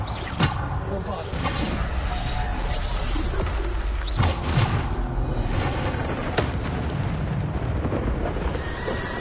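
Bombarda spell explosions in the Hogwarts Legacy video game: loud, broad booming blasts burst out at intervals over constant in-game rumble and clatter.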